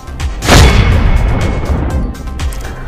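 Firecrackers set off by party workers at a BJP election victory celebration, where sweets were shared: a loud close burst followed by a sustained, dense crackle of smaller pops.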